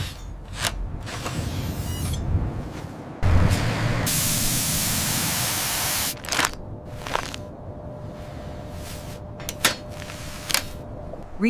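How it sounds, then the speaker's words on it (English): Leak-detection foam hisses in loud, sustained bursts from a spray can onto a cabin seal, broken by pauses and sharp short clicks and taps between sprays. "Trace a sudden pressure dip by spraying leak foam."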